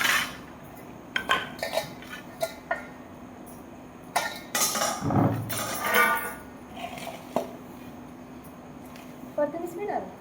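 Metal utensils and pots clink and clatter in a home kitchen during preparation of a special offering for a family deity worship, with scattered knocks and a longer scraping rattle, while people talk at times.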